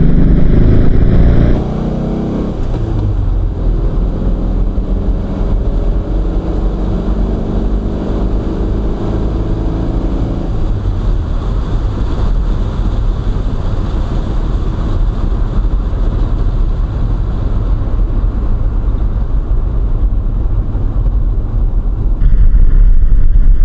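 A 1968 VW Type 3 fuel-injected engine drones steadily while driving, a constant rumbling hum with road noise throughout, no voices.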